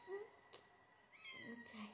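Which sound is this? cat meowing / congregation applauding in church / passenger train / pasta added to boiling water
cat meowing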